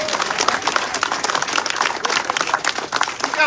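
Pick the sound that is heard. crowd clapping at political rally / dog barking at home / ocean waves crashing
crowd clapping at political rally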